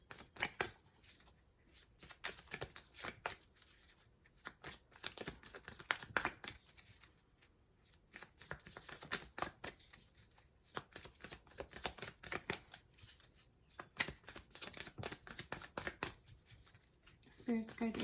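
Tarot cards are shuffled by hand in a long run of soft, irregular riffling and slapping bursts, close but faint, with brief pauses between.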